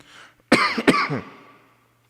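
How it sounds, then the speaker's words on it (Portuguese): Two sharp, close coughs in quick succession, loud and dry, with a faint raspy trailing breath after and quiet room tone before. "desculpa a tosse, tá?"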